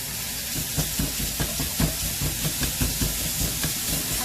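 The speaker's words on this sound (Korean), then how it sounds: "이때 한쪽으로 쳐놓고 소고기 볶기" Beef stir-fried in a pan makes a continuous hissing sizzle, with regular scraping and tossing strokes over it. It is close and alone, with no voices.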